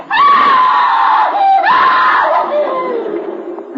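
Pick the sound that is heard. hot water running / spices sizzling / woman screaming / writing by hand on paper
woman screaming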